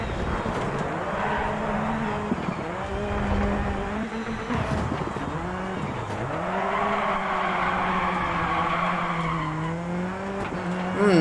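A rallycross car in Dirt Rally 2.0 grinds through corners: the engine drones and revs with shifting pitch, and tyres squeal and skid on loose surfaces almost continuously, loud and close throughout.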